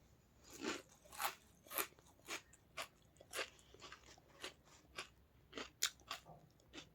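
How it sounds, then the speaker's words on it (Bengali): Dry puffed rice mixed with chanachur, onion and green chilli is chewed close up, giving about a dozen crisp, rhythmic crunches at a steady pace, quiet overall, with no talk. "ওই জন্য একটু মুড়ি খাচ্ছি, শুকনো চানাচুর দিয়ে, মুখরোচক চানাচুর দিয়ে শুকনো মুড়ি"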